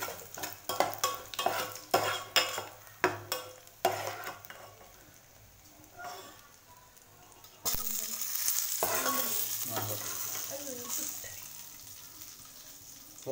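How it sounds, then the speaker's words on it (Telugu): Buttermilk-cured dried chillies fry in a pan for mango dal: a run of sharp spatula clinks and scrapes for several seconds, then a loud, continuous sizzle while stirring goes on. "కొంచెం బాగా ఎర్రగా వేయించుకోవాలి"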